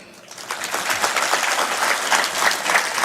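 A live show audience claps warmly and continuously, the applause swelling from a quieter start into a full, dense wash of many hands that holds steady to the end.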